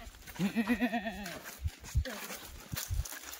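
Kathiawari goats bleat in a rapid wavering series of close, loud calls, followed by scattered thumps and short bursts of nearby noise.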